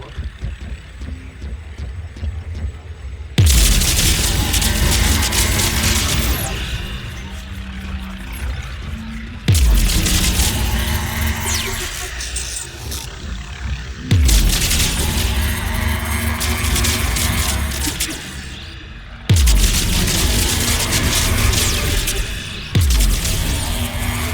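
Gunfire and explosions in the video game Mass Effect 3 on Rannoch: four loud, heavy booming blasts at roughly five-second intervals, each followed by a sustained roar of crashing, rumbling combat noise.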